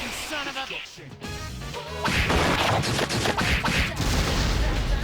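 Cannon attack firing in the video game Persona 3 Portable, a loud crashing blast with a rumbling burst of explosive impacts over battle music, following a brief swell of game effects.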